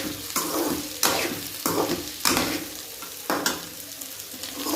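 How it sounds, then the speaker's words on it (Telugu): Chicken schezwan fried rice is stir-fried on high flame, with loud sizzling broken by a regular rhythm of scraping stirs and tosses about once a second, close up. "ఇట్లా కొంచెంసేపు ఫ్రై చేసుకోండి"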